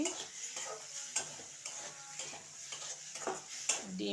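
Egg being stirred into mashed eggplant in a pan, quiet scraping and tapping strokes of a utensil over a faint sizzle, irregular and close, with no one talking.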